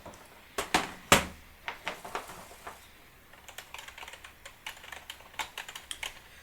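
Fingers type on the soft keys of a KWG budget gaming keyboard, a close, irregular patter of keystrokes with a few sharper clacks early on, then a lighter, quicker run of taps.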